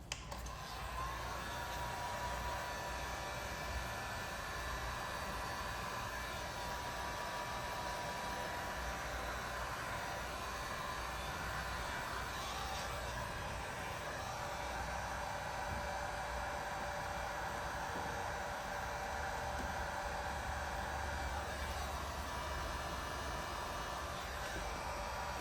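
A heat gun blows steadily on tint film applied to a 2024 Chevy Trax headlight, a constant airy hiss throughout, fairly quiet and alone.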